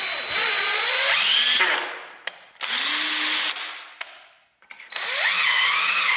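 A power drill with a wire attachment scrubs rust off a cast iron 6.0L LQ4 engine block, loud grinding bursts that rise and fall in pitch, broken by brief pauses.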